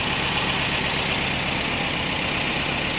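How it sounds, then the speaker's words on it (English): A VW Rabbit Pickup engine idles steadily with a constant, loud mechanical drone and fast low pulsing, close to the microphone, with no speech over it. "I'd like this to be idling a lot lower than it is"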